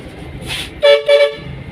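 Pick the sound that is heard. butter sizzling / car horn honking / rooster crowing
car horn honking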